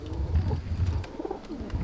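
A breeder's pigeon coos close by in soft, throaty, rolling phrases that rise and fall over a couple of seconds, with no voices.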